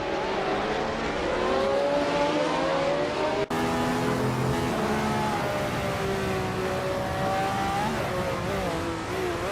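Brabham BT34 race car in a racing video game, its engine droning steadily and loud throughout with rising and falling pitch as it works through gears, a brief cut near the middle.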